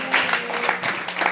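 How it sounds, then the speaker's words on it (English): An audience at a music store open mic applauds a band that just played a song, a steady wash of clapping from a modest crowd, close and continuous. "Let's give these guys a round of applause"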